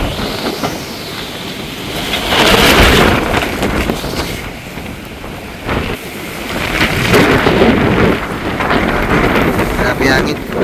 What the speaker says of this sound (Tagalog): sobrang lakas talaga ng hangin ngayon